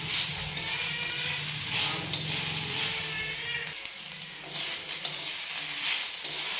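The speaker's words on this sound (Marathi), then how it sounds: "आणि याच्यामध्येच आपल्याला 5-6 लसणाच्या पाकळ्या टाकायच्या आहेत. त्या पण आपण ह्याच्यासोबतच परतून घेणार आहे." Five or six garlic cloves sautéing in a pan alongside tomato, a loud, dense, continuous sizzle and hiss that dips briefly midway before swelling again, with no voices.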